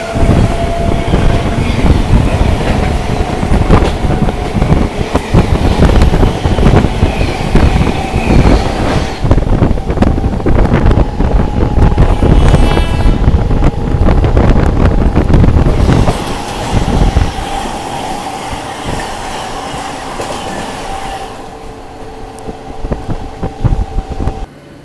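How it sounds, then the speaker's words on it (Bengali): A local train from Bandel pulls into Barddhaman Junction, and the continuous loud rumble and clatter of the wheels eases off toward the end as it slows. "আমাদের ট্রেনটা এখন ঢুকছে বর্ধমান জংশন স্টেশনে।"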